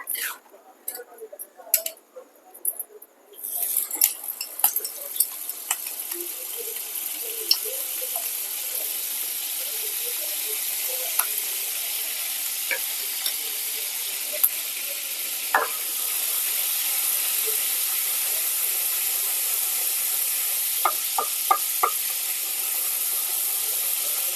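Butter and oil heating in a pan for Marathi-style egg bhurji give a steady, moderately loud frying hiss that rises slightly partway through, with occasional clinks and light kitchen handling noises and no talk.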